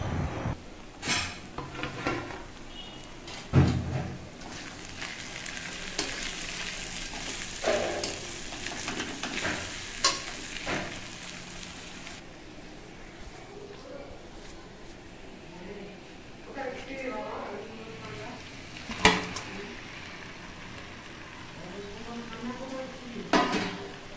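Chicken stirred in a pan with cumin, turmeric, coriander and chilli powder gives a continuous sizzle punctuated by irregular metallic clanks and scrapes of a utensil against the pan, close by, with a voice speaking at times.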